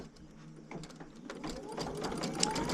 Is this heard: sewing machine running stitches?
yes